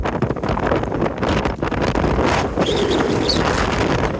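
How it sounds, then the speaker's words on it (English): Strong, steady wind buffets the microphone up on a cloudy mountainside, a dense roaring rush with gusty swells and no letup, close and loud throughout. "Bloody windy though."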